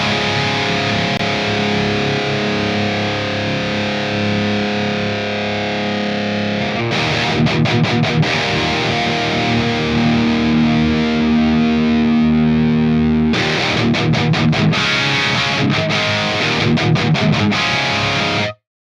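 Distorted electric guitar chords through the vibe effect of a McRocklin PolyChromeDSP ring out with a wavering, swirling modulation, sustained and loud, with rhythmic strummed bursts.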